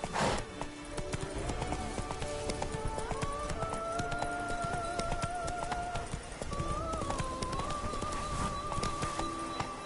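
Roach the horse galloping in a video game, quick rhythmic hoof clip-clops running steadily over the whole stretch, with a brief whinny near the start and tonal game music layered above.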